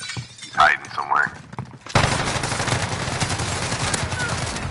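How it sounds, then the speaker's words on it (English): Gunfire in a shooter video game during a tournament match: a dense, continuous burst of shots kicks in abruptly after a short stretch of speech and runs on loudly without a break. "I'm taking fire."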